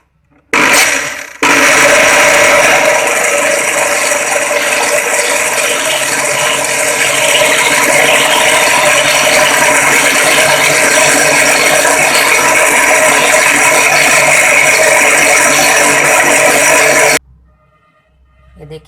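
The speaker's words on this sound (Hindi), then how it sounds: "विनीगर डाल के हम मशीन को फिर से ऑन कर देंगे।" Electric blender running continuously while mixing homemade mayonnaise after vinegar is added, a loud, steady motor whir with a rattling grind, starting abruptly after a brief clack and cutting off near the end.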